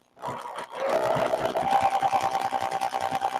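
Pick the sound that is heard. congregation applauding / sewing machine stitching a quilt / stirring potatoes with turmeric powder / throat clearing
sewing machine stitching a quilt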